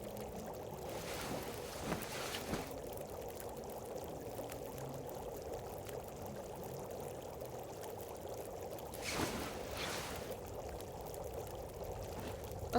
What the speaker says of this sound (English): Oh, that's a pretty strong wind for a morning in the Sundered Pass.